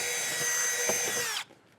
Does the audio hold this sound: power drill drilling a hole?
yes